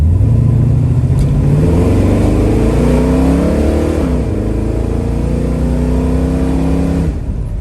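A 1970 Chevrolet Camaro engine revs up and climbs in pitch, drops briefly at a shift into second gear, then pulls hard again; loud and close throughout.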